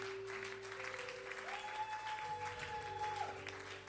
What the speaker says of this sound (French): Acclamons les jeunes.